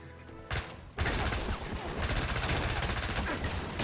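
Rapid automatic gunfire erupts in James Bond 007: Blood Stone, with a single sharp shot followed by a loud, continuous stream of bursts that carries on to the end, close and intense.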